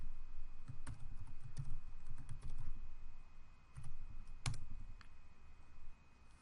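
Scattered keystrokes on a computer keyboard while entering Matlab array commands, the sparse, sharp clicks sitting over a steady low background hum with no talking.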